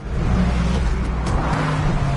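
Cars rush past in a street chase in The Wolf Among Us video game, a dense, steady engine and road roar with low rumble running through the whole short stretch, fairly loud and close, no talking.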